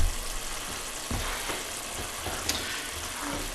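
Meat, celery and onions for chop suey cook down in a pan as most of the liquid cooks off. A continuous hiss and sizzle is broken by a few soft knocks, with no talking.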